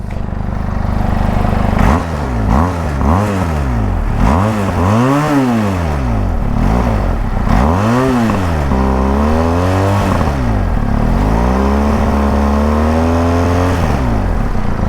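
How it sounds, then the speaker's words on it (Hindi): A Benelli TRK 502 motorcycle exhaust revs repeatedly up and down. Short blips give way to longer climbing and falling sweeps, loud and close, with no talk over it. "So ये खास बात है इसके एग्जॉस्ट में जो हमको मिलता है बेनेली से।"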